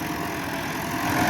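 An ATS 290 tractor pulling a rotavator through a field in fourth gear, its engine giving a steady, continuous drone with a broad rumble that holds level and swells slightly near the end, no voices.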